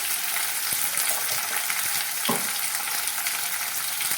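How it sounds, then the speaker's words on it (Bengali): Chicken being sautéed in a pan with sugar for kosha, giving a steady, dense frying sizzle up close with one brief stirring scrape partway through and no talk. "কষা হবে চিকেন কষা চিনি দিচ্ছি"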